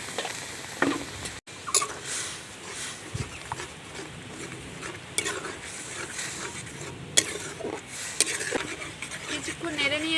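Raw green mango pieces are stirred in a pan with soft scraping and a faint sizzle, the utensil clinking occasionally, while someone talks over the cooking.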